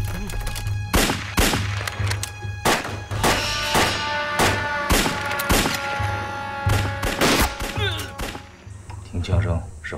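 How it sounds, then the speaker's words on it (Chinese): Gunfire in a war film set in the anti-Japanese war, a rapid series of sharp close shots and thuds with ringing echoes, some bursts overlapping, loud and dense across the scene. "哪儿放的枪？"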